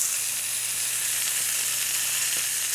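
Frozen London broil steaks searing in a hot pan give off a steady, loud, continuous sizzle with a bright hiss throughout, with no voices over it.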